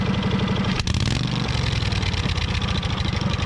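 1959 Fordson Power Major tractor engine running with a steady, throbbing idle, close and loud, with a brief clunk early on and no voices.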